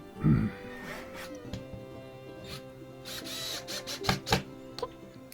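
A cordless drill with its clutch set to 6 drives screws into a chicken coop kit panel, a close, steady motor whine with a few sharper clicks and knocks as the screws seat.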